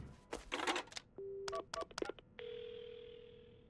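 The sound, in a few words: telephone dialing, from the video game Paranormasight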